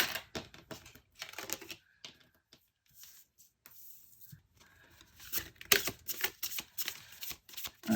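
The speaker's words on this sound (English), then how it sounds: "Gonna shuffle some tarot cards for you." Soft riffling and flicking of tarot cards being shuffled, coming in quiet bursts separated by brief pauses, close by.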